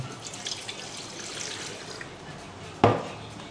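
Water poured into an electric kettle, a soft steady trickle with a faint hiss, close and quiet, ending in a single sharp knock near the end.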